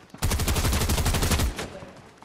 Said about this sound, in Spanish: ¿Dónde hay disparos?